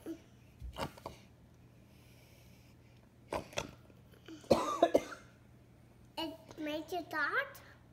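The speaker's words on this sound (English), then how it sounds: "Mommy made herself cough" A woman's cough comes once or twice in a short burst amid brief bursts of nearby speech and a voice, with quiet pauses between them in a home setting.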